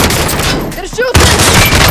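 Bursts of automatic gunfire from the video game Warzone on Rebirth Island crack loudly and close, broken by a brief gap, with game voice chatter mixed in.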